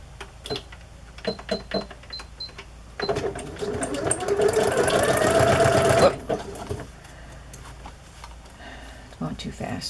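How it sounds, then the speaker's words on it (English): A sewing machine stitches scraps of wallpaper onto the edge of a journal page, starting with short bursts and then running in a steady, fast whir for a few seconds before stopping, with quiet handling clicks around it. "I'm just going to sew that to the edge of the page"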